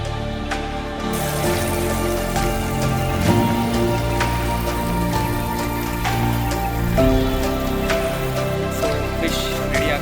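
Rain patters steadily at dusk by the Tungabhadra river bank, an even wash of falling drops with scattered sharper drips, mixed with a sustained tonal hum in the background.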